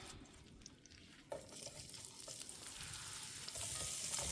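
Onions hit a very hot greased pan over a campfire, a faint hiss that swells into a fuller, steady sizzle after a soft clunk, growing louder toward the end with no talking.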